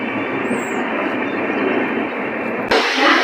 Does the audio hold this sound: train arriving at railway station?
yes